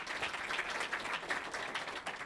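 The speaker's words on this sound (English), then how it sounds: "deserves another round of applause for that" Faint, even applause from a Wikimania conference audience after praise for a grants volunteer, a soft continuous patter of many hands heard from a distance.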